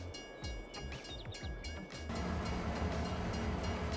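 A passenger train in the Farming Simulator 22 video game rumbles steadily and gets louder halfway through, with a few faint chirps and clicks near the start.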